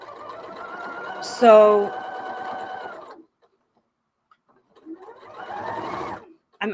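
Sewing machine stitching fabric in straight lines, a steady mechanical whir running under a person talking for about three seconds, then pausing and starting again briefly near the end.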